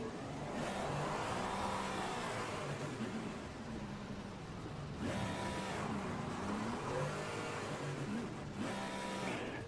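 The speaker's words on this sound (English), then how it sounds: "This car is broken when doing donuts" A race car engine revs hard during attempted donuts on a wet track at Bathurst in Assetto Corsa Competizione, a continuous droning roar that surges in repeated swells of rising pitch.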